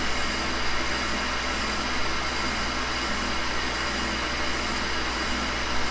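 A milling machine bores with a brazed carbide boring bar, producing a steady, loud, unbroken mechanical whir and grind that holds level throughout with no talk.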